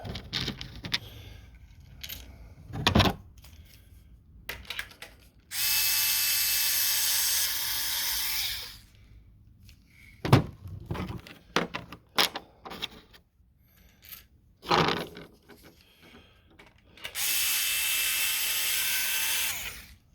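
Screws driven into a pistol slide during assembly, with long steady whirring bursts from a powered driver alternating with sharp metallic clicks and taps nearby.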